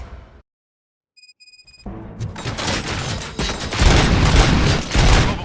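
Gunfire in the shooter game RoboCop: Rogue City, a brief high electronic beeping giving way to a loud, sustained barrage of rapid shots and booms that fills the rest of the clip, with no voices.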